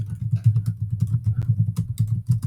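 Fast, steady keystrokes on a computer keyboard form a continuous close clatter of soft clicks for a few seconds, with no voices over it.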